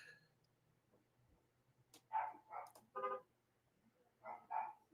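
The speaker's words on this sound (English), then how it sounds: "If you hear the dog barking, that means one of my sons has door dashed some food." A household dog barks indoors, five short sharp barks in quick uneven succession, moderately distant and fairly faint, after a quiet stretch with a low background hum.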